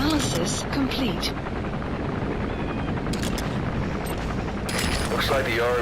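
Military helicopter from Metal Gear Solid V, a loud, steady, close rotor chop that fills the whole stretch, with a voice talking over it.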